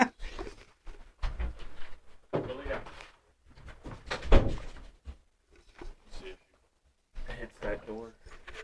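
A dog wearing a cone after being spayed bumps into a door, giving a few dull thuds and knocks amid household noise while people talk nearby.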